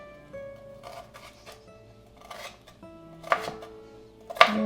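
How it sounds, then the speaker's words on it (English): A knife finely dices vegetables on a board for meatloaf, making irregular clusters of crisp, close chopping taps that grow sharper toward the end, with no talking. "So again, cut them really, really tiny."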